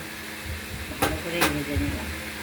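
Pieces of taro (kochu) frying in hot oil in a pan give a steady hiss and sizzle with a couple of sharp bursts, under talk.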